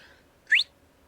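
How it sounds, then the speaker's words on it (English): A short rising whistle from a character in Star Wars: Knights of the Old Republic, a single clear note that sweeps upward and lasts about a tenth of a second, alone over quiet game ambience. "He whistled like he's a dog or something."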